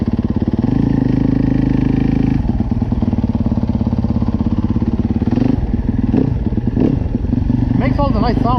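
A Yamaha YZ250F dirt bike with an aftermarket exhaust revs loudly at close range, its engine buzzing steadily, then blipping the throttle in a few sharp bursts near the end.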